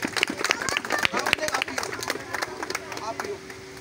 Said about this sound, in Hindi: बहुत सी तालियाँ जी अहमद के लिए।